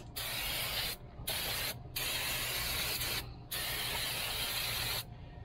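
Brake parts cleaner hisses from an aerosol can onto a camper trailer wheel hub in several steady, close bursts of varying length separated by short pauses, with no voices.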